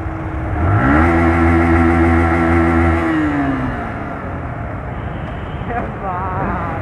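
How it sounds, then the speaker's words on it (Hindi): Yamaha R15 V2 motorcycle engine revving up loudly with a rising then falling pitch sweep, then settling into a steady running drone, heard up close outdoors with some background noise. "देख रहे हो भाई अमेजिंग साउंड है यार इस बाइक का"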